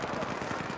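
Rapid gunfire from a Battlefield 4 Domination match on Golmud Railway, a dense burst of repeated shots throughout with game ambience and faint voice chat underneath.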